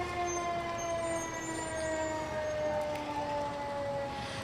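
North River Fire District Engine 11, the district's newest fire truck, sounds its siren at a Manatee County Veterans Day event, a steady wailing tone that holds loud and continuous over outdoor background noise.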